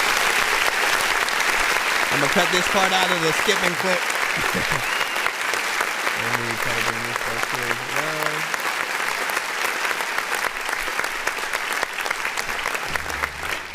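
Recorded clapping plays behind a host's live hip hop review show, a constant wash of applause under his talking while short bursts of music come and go.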